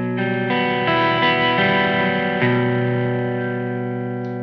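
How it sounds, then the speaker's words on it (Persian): An electric guitar played through an amplifier on an overdrive setting rings out in sustained, slightly gritty chords that shift a few times, loud and close with a lingering tail and no talking. "ما اصلا هم به این صدا میگیم اووردرایو"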